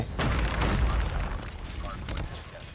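Gunfire in Call of Duty Mobile, a USS9 firing: a loud cluster of booming shots up front, then scattered quieter bursts, with a voice talking over the action.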